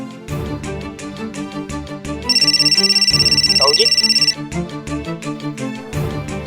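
A phone ringtone trills steadily for a couple of seconds over background music, with a short spoken line nearby.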